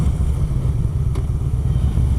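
Harley motorcycle out on an early morning Sunday cruise, a steady, loud low engine rumble with wind roar, heard from the rider's position and unbroken by any talking.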